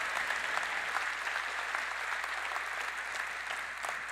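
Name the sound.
audience applause at Nvidia Computex keynote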